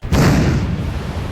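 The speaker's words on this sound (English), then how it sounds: "his leg is so powerful that he can create a gust of wind with every kick" A powerful martial-arts kick in a Shaolin Soccer action scene sets off a loud whooshing blast of wind, used as a movie sound effect. It starts abruptly and stays loud as a rumbling roar, with no talking.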